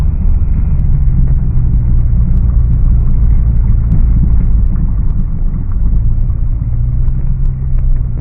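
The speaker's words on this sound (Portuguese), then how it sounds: "o carro tá funcionando tranquilo" Engine of a 2002 Citroen C5 2.0 estate with an automatic gearbox fault, a steady low rumble running evenly throughout, close and loud with no talk.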